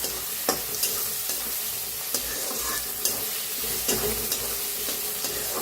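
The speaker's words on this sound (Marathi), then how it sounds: "आता बघा कांदा छान भाजलाय, त्याच्यात टमाटो बी टाकून घेतले. टमाटो बी छान असं भाजून घेऊया." Onion and tomato fry on a pan for a rural cluster-bean curry, under a steady close sizzle broken by repeated sharp scrapes and knocks of a spoon stirring, with no talk.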